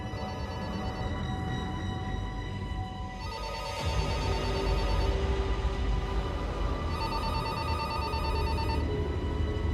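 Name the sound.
telephone ringing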